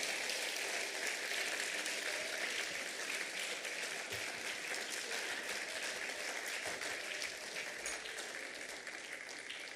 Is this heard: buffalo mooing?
no